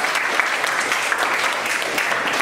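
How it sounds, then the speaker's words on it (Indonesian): Applause from a classroom of students during an Indonesian trigonometry lesson: a short, dense burst of steady clapping that stays fairly loud and even throughout. "tepuk tangan dulu"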